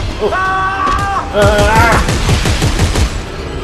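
Gunfire in the video game Dead Space 3, several loud shots with clattering impacts over game sound and tonal effects, while a player talks throughout.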